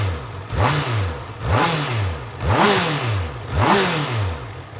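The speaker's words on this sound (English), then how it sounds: "The quintessential big bike sound." A Triumph Trident 660 motorcycle engine is revved four times in a steady rhythm, each blip rising sharply in pitch and then falling back toward idle. The engine is close and loud, with no talking.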